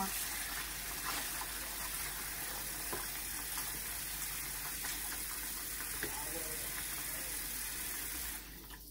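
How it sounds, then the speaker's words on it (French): Water pours steadily into a cooking pot for a Moroccan harira soup, a continuous close gushing wash that cuts off near the end. "Je vais mettre même l'eau"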